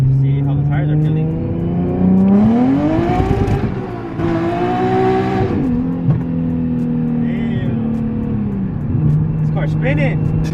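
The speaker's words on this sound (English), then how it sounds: "Alright, I'm gonna try a little first gear pull. See how the tires are feeling." An E85-tuned Nissan 370Z revs hard through a first-gear pull, its engine note climbing steadily, easing off, then rising again, loud and close from inside the car.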